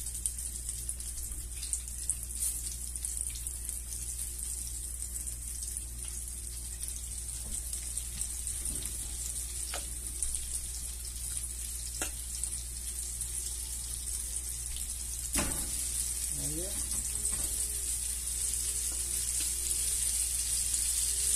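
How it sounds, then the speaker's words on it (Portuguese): Triggerfish frying in a pan gives a steady, even sizzle throughout, close and continuous with a few faint clinks and no talk. "Vou esperar ele fritar um pouquinho, né?"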